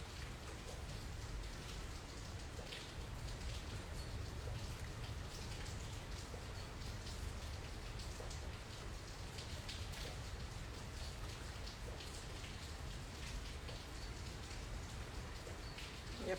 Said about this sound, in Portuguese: Aproveita o som da chuva.